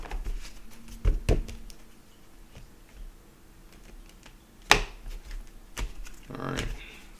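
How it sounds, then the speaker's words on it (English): Tarot cards shuffled and cut by hand: scattered riffling bursts and sharp card snaps, with a louder flurry of shuffling near the end, soft and close amid quiet pauses. "Let me give it another shuffle here, okay? And then I'm going to cut the cards."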